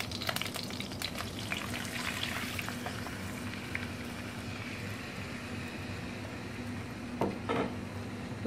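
Coconut milk poured into a pan of beef frying for beef randang, giving a steady dense sizzle and bubbling throughout with a few light clinks near the end, close and even, no talking.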